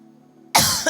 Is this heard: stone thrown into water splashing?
no